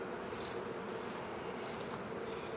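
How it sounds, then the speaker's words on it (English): Dense, steady buzzing of many honeybees clustered around a busy hive in January, a continuous close drone with no talk. "I want to propagate these bees"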